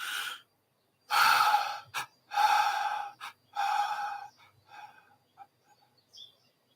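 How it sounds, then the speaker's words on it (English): Forceful deliberate exhalations during a breathing exercise, starting from full lungs: three long breathy blows close to the microphone, followed by several shorter, fading puffs with silence between. "I'm going to breathe out more than I breathe in"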